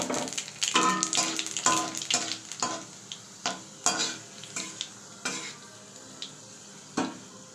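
Two dried red chilies and a pinch of nigella seeds fry in a little oil in a kadai, giving a soft sizzle broken by a string of sharp stirring clinks and scrapes against the pan, repeated at an uneven pace.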